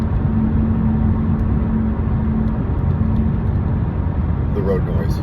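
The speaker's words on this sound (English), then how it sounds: "Although my car is pretty good with road noise." Steady broadband road noise fills the cabin of a moving car, a dense continuous rumble and hiss with no breaks, loud and close.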